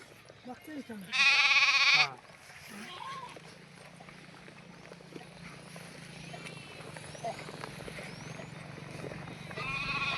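One loud, nearby goat bleat rings out near the start, followed by people talking over a low background hum, at a herders' camp after heavy rain.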